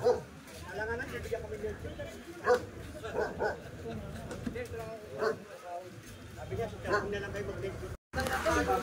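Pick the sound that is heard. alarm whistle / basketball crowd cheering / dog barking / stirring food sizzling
dog barking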